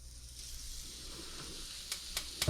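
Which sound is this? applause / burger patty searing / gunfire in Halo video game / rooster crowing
burger patty searing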